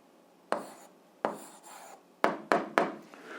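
An algebra answer is written out by hand in a quiet room: five short, separate scratchy strokes, the last three coming quickly together, close and fairly distinct, with no speech.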